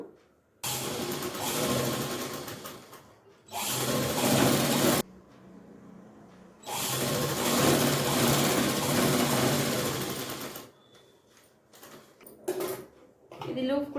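An electric sewing machine stitches the lining and main pieces of a cotton frock for a five-year-old girl, running in three long, loud whirring bursts separated by quiet pauses.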